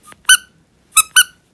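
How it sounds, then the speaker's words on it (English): A small Mini Foodie Roos squeaky toy squeezed three times, sharp close squeaks with one single squeak, a pause, then two quick ones in succession, with no talking. "And that one squeaks."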